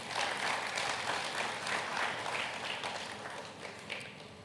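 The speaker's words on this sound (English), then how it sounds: "Please give him another round of applause" Sustained audience applause at an annual lecture event, a steady wash of many hands clapping throughout, tapering slightly toward the end.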